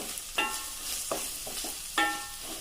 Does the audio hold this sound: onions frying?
yes